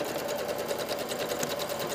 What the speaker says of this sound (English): now it's very imperative that I sew a clean 5/8 of an inch